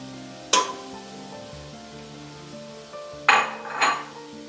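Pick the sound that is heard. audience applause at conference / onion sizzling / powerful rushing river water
onion sizzling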